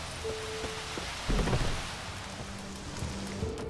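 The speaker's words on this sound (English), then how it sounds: "Looks like rain." Steady rain falls in The Witcher 3 game world as an even hiss of drops, with faint low in-game tones underneath.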